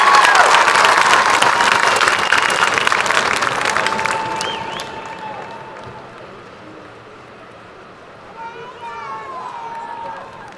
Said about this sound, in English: Let's give another big round of applause for Grace and her family.